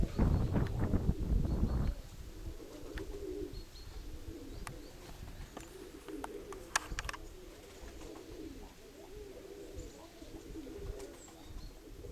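Pigeons coo softly and repeatedly from a nearby flock over a steady outdoor background, with a brief louder noise at the start and faint chirps scattered throughout.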